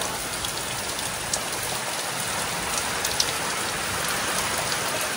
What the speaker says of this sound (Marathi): आला का पाऊस? आला.